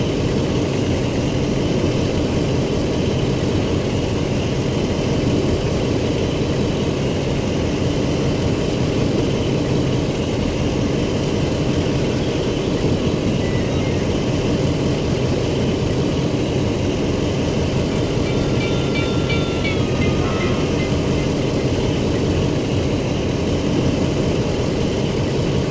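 A DE 24000 diesel locomotive hauls the Toros Express through the Taurus Mountains in a train simulator, giving off a loud, steady engine drone and rolling rumble with no break, plus a few faint high squeals near the end.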